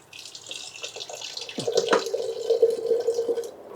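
Water is poured into a clay pot holding quartered tomatoes, a close, splashing trickle that settles into a steady filling stream over a few seconds.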